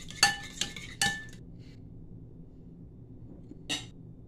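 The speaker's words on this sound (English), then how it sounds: "Mix everything together." A utensil mixes egg and spinach in a bowl, giving a few sharp, close clinks against the dish, three in quick succession, then a quiet pause before one more.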